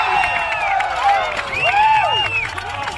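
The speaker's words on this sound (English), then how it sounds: "We've got a very loud crowd behind us here tonight." Loud crowd of lacrosse alumni at a college men's lacrosse game on an outdoor field, a dense roar full of rising and falling whistles and shouted whoops, close and continuous.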